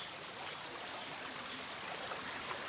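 Cold, clear stream tumbling over small waterfalls as it runs through the village of Łukowica, Poland; a steady, close, broadband rush of water with no pauses and no voices.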